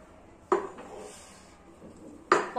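A utensil stirs wheat batter in a metal pot for kurdaya, giving two sharp clanks against the pot about two seconds apart, with a quieter scrape between them.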